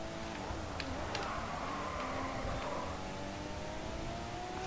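A car engine in a racing video game revs with rising harmonic sweeps and whirring tones, loud and continuous with brief ticking clicks, close and unbroken.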